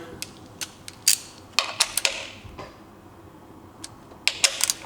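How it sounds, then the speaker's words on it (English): A ratchet snugs spark plugs into the aluminum head of a Yamaha WaveRunner VXR, giving sharp close clicks in short irregular bursts separated by quiet pauses. "Just gonna snug them up with the wrench, or ratchet, sorry."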